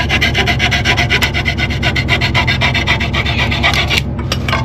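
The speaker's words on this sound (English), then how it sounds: "Cut a little board." A hand saw cuts through a small wooden board, with loud, close, rhythmic rasping strokes back and forth that end in a brief pause and a final few strokes.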